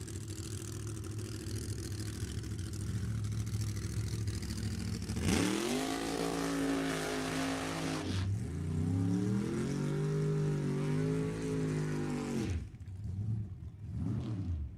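Drag race cars at Sacramento Raceway idle with a low rumble, then launch with a loud rising engine roar that shifts through gears, followed by a second car accelerating hard before the sound fades away.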